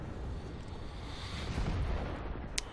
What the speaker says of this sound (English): I think he got nailed by an artillery.